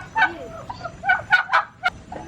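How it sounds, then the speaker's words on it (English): Several chickens clucking on a farm, a few short close squawks and clucks in an uneven rhythm over quiet background. "You get a glimpse of some of the different chickens"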